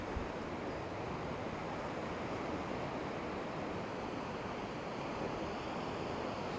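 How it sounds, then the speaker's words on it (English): Small ocean waves rolling in on a morning shore, a continuous broad wash of surf noise with slight wind, steady and fairly loud from start to end, no talking. "A little bit of surf out there this morning."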